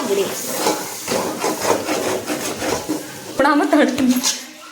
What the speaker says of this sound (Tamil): நல்லா கிண்டிடணும் ஃப்ரெண்ட்ஸ்